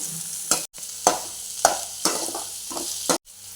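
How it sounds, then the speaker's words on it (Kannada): Eggs frying in a pan with onion, drumstick leaves and curry leaves, a close, constant sizzle broken by several quick scraping stirs and brief dropouts. "ನಾನಿಲ್ಲಿ ಮೂರು ಮೊಟ್ಟೆ ಫ್ರೈ ಮಾಡ್ತಾ ಇದ್ದೇನೆ"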